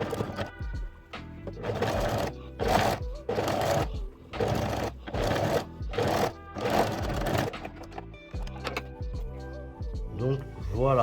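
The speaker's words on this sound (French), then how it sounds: "je vais pouvoir fermer mon ouverture en faisant une surpiqûre nervure, donc à 1 mm du bord, tout autour de ma pièce" A sewing machine topstitches 1 mm from the edge all around a small fabric basket for makeup wipes, its motor running in steady bursts of stitching with short pauses between them, close and fairly loud.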